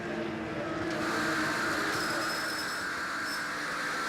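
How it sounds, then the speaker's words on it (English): Porsche GT3 Cup race car at Pukekohe with a flat-spotted tyre, a steady distant engine roar mixed with a rhythmic rumbling and faint whine from the track, continuous and moderately loud. "So you can hear a massive flat spot on Reid's car."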